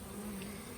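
Honey bees hum steadily at an opened, active hive, a close, continuous buzz with no talking over it.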